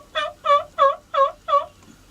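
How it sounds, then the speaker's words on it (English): A wild turkey gobbles from its roost on a Tennessee mountain, five quick, loud warbling calls in a clean even rhythm, close and clear against a quiet background. "We might actually hear some gobble on a roost."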